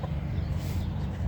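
A rooster clucks nearby, a brief run of low, rough clucks set against noisy outdoor background.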